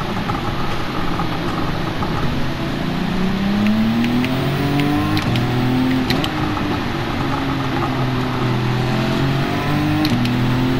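A 1999 Nissan GT-R GT500 race car in Gran Turismo 7 on the Nürburgring Nordschleife, its engine droning steadily and rising and falling in pitch through gear changes. It stays loud and continuous throughout, with no voices.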